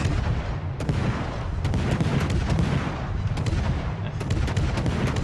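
The Colbert's naval guns fire repeated salvos in World of Warships, sharp booming shots over a steady low rumble of battle noise.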